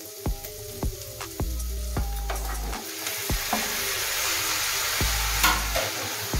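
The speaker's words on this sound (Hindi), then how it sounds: "चिकन थोड़ा सा भूनेंगे" Chicken pieces fry with lightly cooked onion in a pan, giving a constant hissing sizzle punctuated by repeated heavy thuds and scrapes as a spoon stirs and knocks against the pan.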